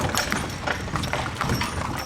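Horse hooves clip-clop in a steady, brisk rhythm on a ranch, each step crisp and close, with a continuous busy texture of hoofbeats throughout and no talk.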